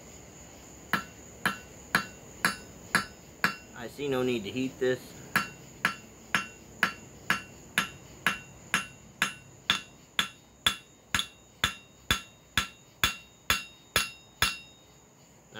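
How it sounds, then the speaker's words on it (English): Repeated hammer blows flatten copper on an anvil, with the flat of the hammer striking cold metal, about twenty sharp, evenly spaced ringing hits. A brief burst of speech occurs partway through. "Let me try to orient it to where I can get a straight shot on it with the flat of the hammer."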